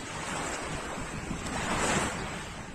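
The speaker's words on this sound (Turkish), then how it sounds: "Suyun sesini." Ocean waves wash and surge in a steady broadband roar, close and moderately loud, with wind buffeting the microphone throughout and no voices.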